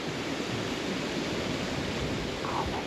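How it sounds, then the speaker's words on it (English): Water flows down a small stepped cascade beside paddy fields near Bhandardara, making a constant rushing wash that stays close and steady throughout. "very small step cascading here, but very beautiful water flowing from here till there"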